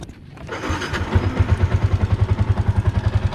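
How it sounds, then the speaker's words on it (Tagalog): A used Yamaha Sniper motorcycle with a weakening battery cranks for over a second before its engine catches, then settles into a steady, rapid, pulsing idle, close and fairly loud. "it takes more than 1 second for the motorcycle to start"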